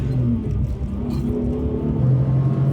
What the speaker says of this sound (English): Flooring it here. It's really fast.